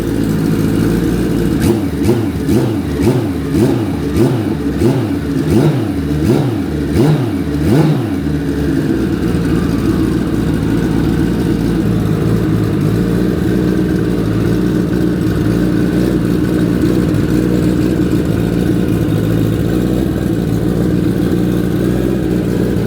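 Car engine revving in sharp, repeated bursts during warm-up after a plenum refit, then settling into a steady, loud, rough idle that continues alone.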